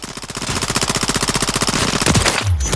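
A scoped rifle in Call of Duty Modern Warfare III fires a long rapid automatic burst, loud and close, with sharp evenly spaced shots for about two seconds before stopping.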